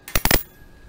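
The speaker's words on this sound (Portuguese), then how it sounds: "vou cortar esse bolo" A knife cuts through a homemade corn cake dusted with cinnamon and powdered sugar, giving a quick cluster of three or four sharp clinks against the dish before a quiet tail.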